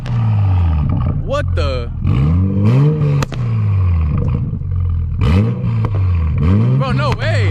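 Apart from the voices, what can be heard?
Toyota Supra MK5 engine revving with burble tune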